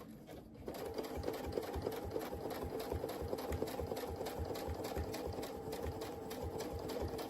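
A sewing machine stitches steadily through quilt ruler work in a fast, even rhythm of needle strokes, loud and close, running without pause and with no one talking.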